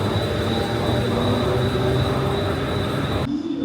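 Train at Belapur railway station in India, a loud steady rumble of rolling wagons and rail noise with a faint high whine, continuous and close, ending abruptly.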